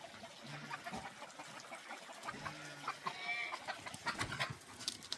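Chickens cluck and call near a farm pond, short scattered clucks over faint outdoor background noise.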